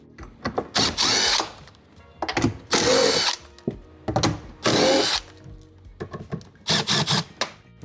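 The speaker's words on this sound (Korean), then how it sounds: "그 다음에 드릴을 대주세요" A power drill loosens 10 mm hex bolts on a Tesla Model Y door, heard as several close, loud whirring bursts of a second or so each, separated by short pauses and ratcheting clicks.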